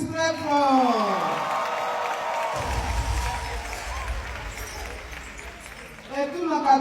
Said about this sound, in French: Je veux qu'on applaudisse très fort.